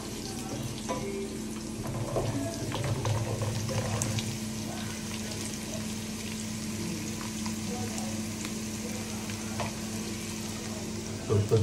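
Onions browning in a pan for a red snapper fish curry give a low, steady sizzle with scattered faint clicks and no talk.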